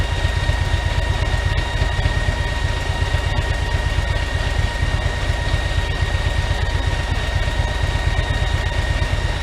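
A stationary Harley motorcycle engine idles while powerful fans cool its cylinder head, making a loud, steady low rumble with an even pulsing throb and a constant whooshing hum over it.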